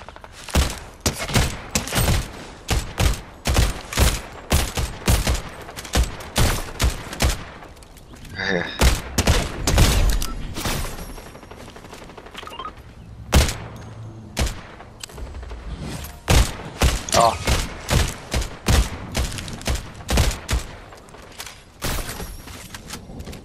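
Rapid gunfire from a player shooting in Fortnite, with many loud close cracks in uneven bursts and clusters, a few brief pauses between volleys, and little talk over it.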